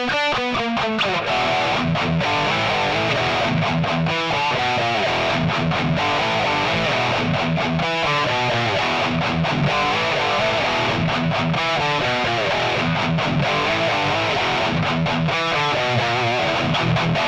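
A high-gain electric guitar through the crunch channel of an Audio Assault Sigma EX amp plugin plays tight, heavily distorted thrash-style palm-muted riffs with rhythmic chugs and short stops, loud and continuous with no talking.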